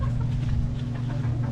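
Boston Gold chickens cluck softly at feeding time, a low continuous murmur of hens close by with no voices.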